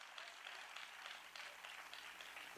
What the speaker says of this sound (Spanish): si usted le va a aplaudir a Dios, apláudale más fuerte, que le duelan los dedos